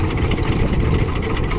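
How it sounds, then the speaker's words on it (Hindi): A tractor engine, push-started after it would not start, runs in a steady low throbbing idle, loud and close, with no talking. "धक्का मुक्की करके जैसे तैसे करके ट्रैक्टर स्टार्ट करा के फिर कराई कुटी।"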